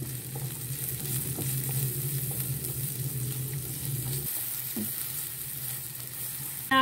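Large-cut chopped onion for a mini aloo samosa filling frying in hot oil, an even sizzle that runs close and steady, fading a little after a brief dip in the background hum, with no voices.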